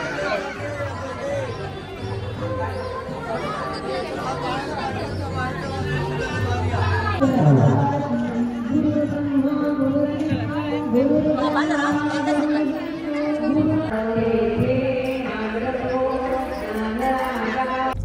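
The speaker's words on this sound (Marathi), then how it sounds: "खूप गर्दी आहे. खूप जास्त आली." Busy crowd chatter during a temple visit to the goddess, many overlapping voices murmuring close by, with one voice rising above the babble midway.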